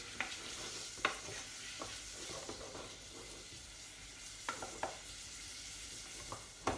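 Butter beans sizzle and fry quietly in butter in a pan, with occasional sharp scraping clicks of a utensil stirring at irregular intervals.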